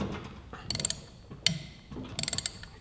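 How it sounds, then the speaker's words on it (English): A 3/8 ratchet with an Allen bit loosening the front brake rotor bolts on a 2015-2017 Yamaha YZF-R3, giving several quick bursts of close, sharp clicking with short pauses between them. "Got our Allen 3/8 ratchet."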